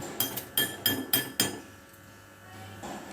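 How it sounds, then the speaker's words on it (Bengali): Soaked, drained rice pours into a bowl with a few sharp clinks and rattles in quick succession, then a soft settling hiss as the grains come to rest, close and fairly quiet. "এবার আমি চালটাকে একটা বোলের মধ্যে ঢেলে দিচ্ছি"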